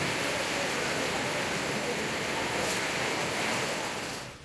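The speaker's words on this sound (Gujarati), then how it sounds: "અરિયુર આસપાસ પવનના સુસવાટા સાથે આવી પહોંચેલી મેઘ સવારીએ સટાસટી બોલાવી" Stormy weather in Tamil Nadu, southern India: a steady, dense roar of gusting wind and heavy rain, loud and constant throughout, fading at the very end.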